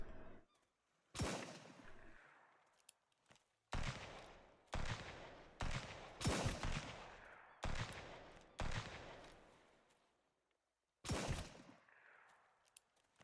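Gunfire in the survival game Sunkenland, a series of loud, close shots each followed by a decaying echo tail, fired in bursts of single reports spaced about a second apart with brief quiet gaps between.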